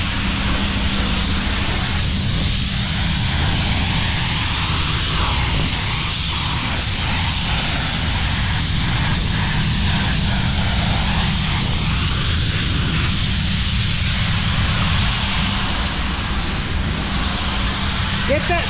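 A spray gun lays clear coat over a white pearl Nissan Patrol, putting out a constant broad airy hiss that runs unbroken throughout, close and fairly loud.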